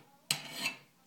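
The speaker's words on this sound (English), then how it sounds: "if I need to file something down just to get a burr or two out, that's kind of just a light file" A light file drawn once across a metal tree climbing spike to take off a burr, a single short, close rasping stroke in a quiet setting.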